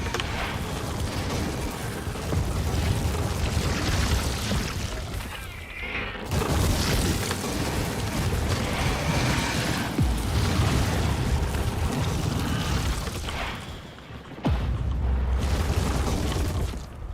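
Nuclear bomb blasts in the video game Factorio as bombs hit a large mega base, with loud, sustained rumbling booms that surge and fade several times over continuous dense noise.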